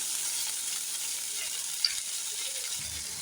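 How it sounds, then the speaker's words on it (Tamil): Chopped garlic sautéing in a pan with a steady, even sizzle and light stirring, one small click near the middle, no talking. "கட் பண்ண பூண்டை போட்டுடலாம். நல்லா ஒரு 2 நிமிஷம் நல்லா வதங்கலாம்."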